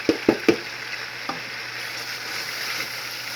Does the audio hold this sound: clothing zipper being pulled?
no